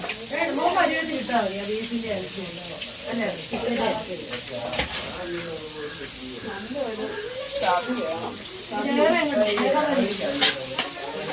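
Chicken and sliced onion frying in a pan for a home-style chicken curry while being stirred, with a steady sizzle and scraping stir strokes throughout and a voice talking over the cooking.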